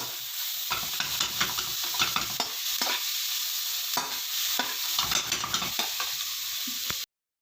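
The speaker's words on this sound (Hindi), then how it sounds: "सौते हो गए हैं, ये देखें।" Garlic, ginger and onion sauté in a hot pan, a steady close sizzle broken by repeated scraping stirs of a spoon against the pan, with no talking.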